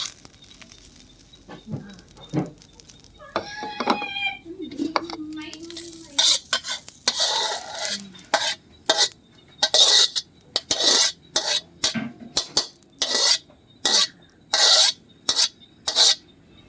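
Rhythmic scraping and clanging of a spatula against a hot wok stir-frying sesbania flowers in pork lard, with steady sizzling underneath; strokes repeat quickly and loudly.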